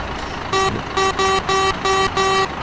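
A Volvo F16 truck's two-tone horn in American Truck Simulator sounds five steady blasts in a regular rhythm, loud and close over a low engine hum.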